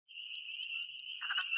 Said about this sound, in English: You can hear both wood frogs and spring peepers.